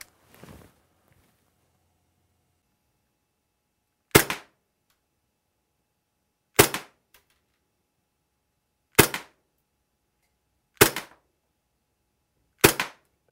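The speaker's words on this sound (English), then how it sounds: "Good shooting there, Tex. You got a couple on the bull" A WE PX4 gas blowback airsoft pistol fires five sharp, close shots at a target, spaced roughly two seconds apart, with near silence between them and a faint shuffle at the start.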